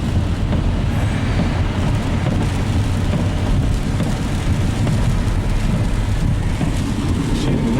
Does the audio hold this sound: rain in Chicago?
yes